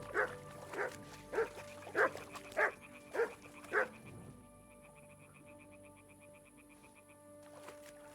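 A dog barks in the video game Kingdom Come: Deliverance II, giving seven loud, evenly spaced barks in quick succession before the sound falls away to quiet game ambience.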